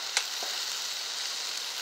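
A steak cooking in a stove pipe sizzles steadily with a bright, hissing fry, fairly faint and continuous, with a small pop near the start.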